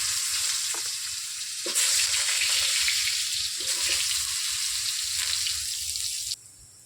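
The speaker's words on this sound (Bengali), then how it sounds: "তেল দিয়ে দিলাম, কড়াই গরম হয়ে গেছে। আলু ভেজে নেব।" Potatoes fry in hot oil in a kadai with a loud, steady sizzle, and occasional stirring or scraping cuts through it before the sound stops abruptly near the end.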